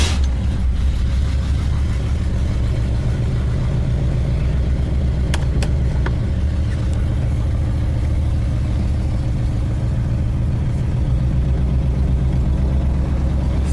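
A 1972 Corvette engine with an exhaust leak between the headers and exhaust drones steadily while driving down the road, a loud continuous low rumble with a few faint clicks and no talking.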